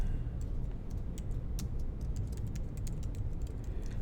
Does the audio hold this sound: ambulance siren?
no